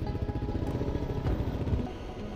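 Adventure motorcycles riding back toward Mesquite after a fuel stop, engines thrumming steadily with a pulsing mid-range drone at close range, no voices over it.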